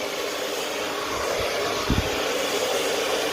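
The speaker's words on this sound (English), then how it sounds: "following the warm air off the dryer with the shape of the brush" A hair dryer blows warm air during a blow-dry in a steady, loud whooshing drone, with a couple of brief low thumps as the brush moves through the hair.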